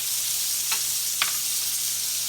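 A chicken fried steak sizzles steadily on a flat top griddle, a close, loud, even hiss with two brief scraping touches.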